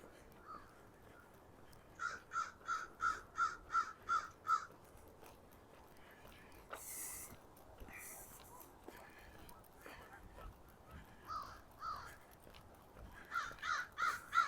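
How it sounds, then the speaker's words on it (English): Crows squabble near Wascana Lake in Regina on a chilly autumn day, firing off a quick run of harsh, repeated caws, then falling quiet before a second burst of cawing near the end, with faint outdoor ambience between. "And the crows having words."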